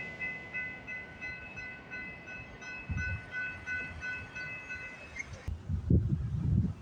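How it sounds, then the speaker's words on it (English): A CPKC eastbound freight train approaching on the line near Milton, Ontario, its horn sounding in long steady blasts before the rumble of the train grows louder and closer. "we got a CPKC eastbound train coming down the line"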